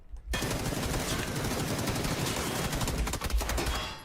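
Rapid automatic gunfire rattles continuously in the video game PUBG, loud and dense bursts of shots filling the whole stretch after a brief silent start.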